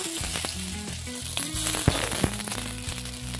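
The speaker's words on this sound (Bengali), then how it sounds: "এবার তেলে দিয়ে দেবো জিরা, শুকনো লঙ্কা, থোড়া সা পাঁচফোড়ন, আর অল্প করে পাঁচফোড়ন, তেজপাতা" Cumin, dried chili, panch phoron and bay leaf fry in hot oil for a Bengali banana-flower dish, giving a steady close sizzle with sharp crackles and pops throughout and no talk.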